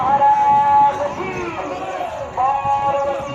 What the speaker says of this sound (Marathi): भरपूर आज गर्दी आहे